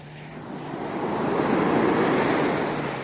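Strong ocean surf rolls onto the shore at Laiya public beach in San Juan, Batangas, a steady, loud wash of breaking waves with wind rushing across the microphone, swelling toward the middle and holding without speech.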